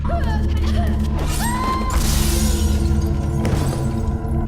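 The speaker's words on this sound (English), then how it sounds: "we hear broken glass at the end" Glass shatters in a Dead by Daylight trailer, a bright crashing burst rising over a dense, droning music bed, with a second smaller crash of debris following near the end.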